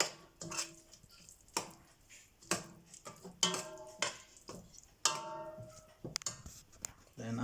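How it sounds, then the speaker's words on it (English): A spoon stirs dried bitter leaf into egusi soup in a metal pot, with intermittent clinks and scrapes against the pot, fairly close but quiet, and a voice talking over it. "Then you stir it together,"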